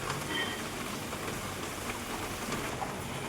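Heavy monsoon rain falls steadily in Delhi, a dense, even hiss of drops hitting surfaces close by, with no one speaking.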